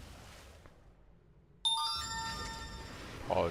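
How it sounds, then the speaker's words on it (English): A mobile phone ringtone cuts in abruptly and loudly after a quiet stretch, a bright sustained melodic ring that keeps going over game sounds. "Apologies for the sound of my phone."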